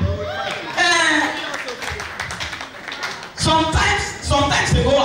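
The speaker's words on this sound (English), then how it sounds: "If you get that joke, you will clap." An audience at a Nigerian celebrity event for an actress claps in short bursts after a joke, the clapping mixed under a loud voice speaking into a microphone.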